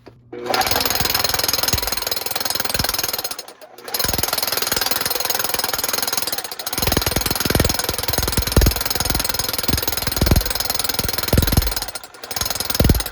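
A Makita AVT SDS-Max rotary hammer drill pounds loudly and steadily into bluestone in long runs, stopping briefly twice before starting up again, with no voices.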